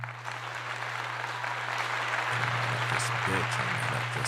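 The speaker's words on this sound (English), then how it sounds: "A round of applause for that" A round of applause on a talk show or livestream, a continuous wash of clapping over a steady low hum, with a brief voice toward the end.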